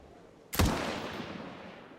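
A single loud gunshot fired at a beast in the video game Murder in the Alps, a sharp blast followed by a long, fading reverberant tail.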